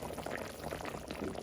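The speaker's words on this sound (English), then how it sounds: "it's boiling down. And you see how the sauce is getting thick?" Thickening sauce boiling down in a pot on a home stove, a steady close bubbling and gentle popping with no pauses and no talk.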